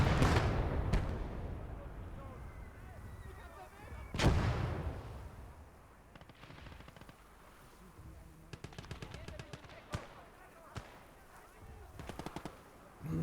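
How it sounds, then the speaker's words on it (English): Artillery blasts and machine-gun fire rumble through a WWII street battle in a Normandy conquest video game, with heavy booms near the start and around four seconds, then rattling bursts of automatic gunfire, all under quiet talk. "There's a lot of enemy infantry coming our way, so... And enemy artillery as well."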